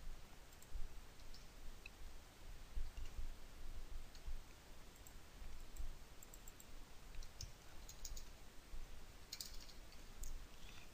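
A computer mouse gives faint, sparse clicks while someone works in tax software, the soft ticks scattered over a quiet, hissy background.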